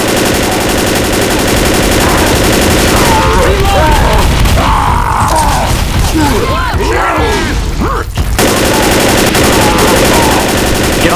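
Rapid automatic gunfire from a mounted Gatling gun in the video game Left 4 Dead, a loud continuous stream of shots layered with game noise and voices talking throughout.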